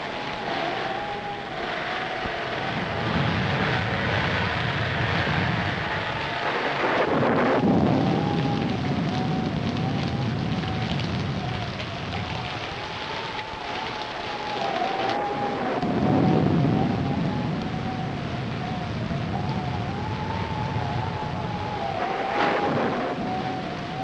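A thunderstorm with wind and rain: a steady wash of rain hiss and howling, whistling wind, with deep rolling rumbles swelling up twice and fading.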